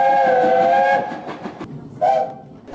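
A steam locomotive whistle sounds on a visit to Lebanon, Ohio: one loud, long blast, then a pause and a second, shorter blast.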